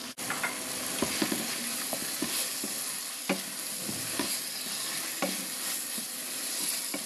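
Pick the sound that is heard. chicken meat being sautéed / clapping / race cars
chicken meat being sautéed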